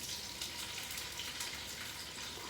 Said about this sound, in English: I'm just going to put those in the pan.